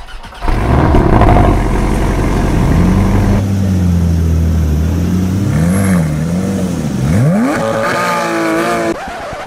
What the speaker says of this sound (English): I'm just gonna go ahead and hop on into the Porsche 718 Cayman and drive off into the sunset